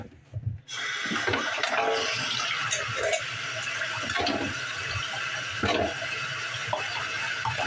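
Tap water runs steadily into a kitchen sink to fill dish water while chili is being made, a continuous close rush that starts after a short quiet moment and keeps going with light clatter.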